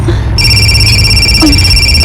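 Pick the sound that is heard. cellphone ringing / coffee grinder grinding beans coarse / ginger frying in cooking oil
cellphone ringing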